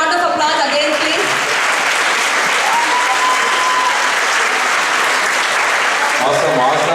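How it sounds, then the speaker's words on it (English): An audience at a Diwali community celebration bursts into loud, sustained clapping that fills the room and carries on for several seconds, with a few voices rising over it near the end. "Let's give them a big round of applause again, please."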